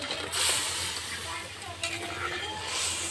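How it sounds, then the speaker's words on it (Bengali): Prawns simmer in bubbling coconut milk, a quiet soft sizzle and burble with occasional stirring scrapes from the pan. "নারকেলের দুধ ফুটছে একটু তার ভিতরে আমি চিংড়ি মাছ দিয়ে দিয়েছি"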